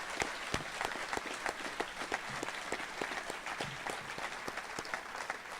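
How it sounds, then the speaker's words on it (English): An audience at a lineman college graduation applauds the journeyman linemen who stood up, producing steady, moderately distant clapping with distinct individual claps standing out from the crowd. "Let's give these folks a round of applause,"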